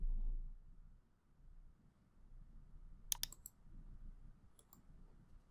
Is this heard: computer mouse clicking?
yes